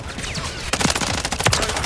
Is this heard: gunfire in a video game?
yes